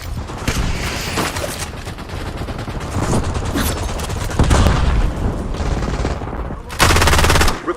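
Rapid machine gun fire in a video game, dense continuous bursts of shots with heavier booms near the end, loud and close, with faint radio-style voices in the background.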